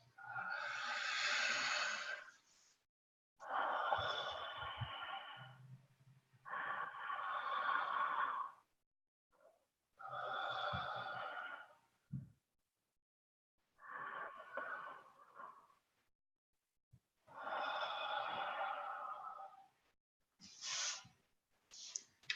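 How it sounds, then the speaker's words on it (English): A person takes a series of deep, slow breaths, long airy inhales and exhales separated by brief pauses, close and fairly soft, with no talking in between. "let's take 3 breaths"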